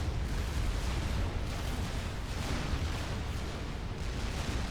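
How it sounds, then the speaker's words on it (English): Bombing-run explosions in the strategy game Supreme Commander 2 blur into a continuous, heavy rumble with no clear gaps between blasts. "Whoa, that's a nasty bombing run."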